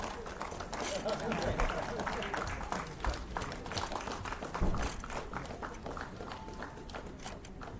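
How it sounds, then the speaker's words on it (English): Audience applause in an auditorium during the inauguration of an alumni meet, a dense, steady crowd of clapping hands at moderate level, with loose taps and scattered claps standing out across the whole stretch. "A great round of applause for Honorable Director Professor Sharat Kumar Patra."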